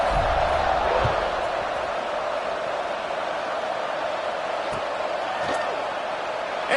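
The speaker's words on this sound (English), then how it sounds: "this crowd is buzzing after that last score" A college football stadium crowd buzzes after a score, a dense, steady roar of many distant voices that holds unbroken throughout, with a few faint thuds near the start.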